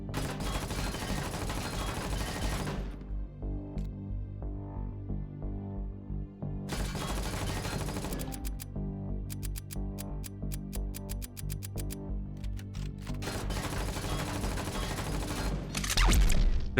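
Rex combat rifle firing in the sci-fi shooter Empyrion, long sustained bursts of rapid automatic gunfire broken by short pauses, loud and dense, with no talking over it.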